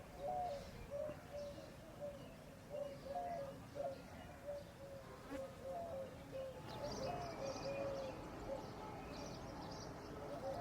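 Doves coo in repeated soft, rhythmic phrases beside Gadisar Lake in Jaisalmer on a morning in the Thar Desert, with faint chirps and quiet ambient background, the calls moderately distant and steady.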